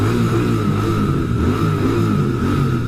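A Royal Enfield Bear 650 motorcycle on its stock exhaust pipe holds a steady, deep, throbbing rumble near and loud, with a constant high whine riding over the low pulsing firing beat, and no speech.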